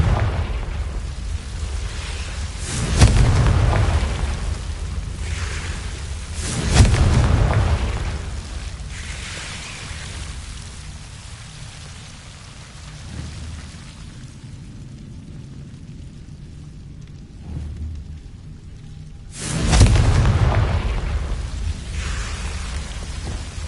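Three booming Confringo fire-spell blasts in Hogwarts Legacy, each a heavy low burst with a rumbling tail, spaced several seconds apart over a quiet ambient background.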